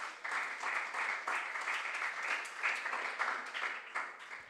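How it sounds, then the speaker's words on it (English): Audience applause at a junior science and maths quiz regional qualifier, a steady wash of clapping starting abruptly and continuing throughout, moderately loud with no talk. "Let's clap for our sponsors."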